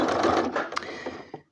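A sewing machine stitching fabric runs a short back-and-forth pass, a brief close whirring hum with quick pulsing stitches and a small click, lasting only about a second and a half.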